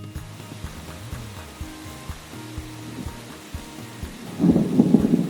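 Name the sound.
rain with thunder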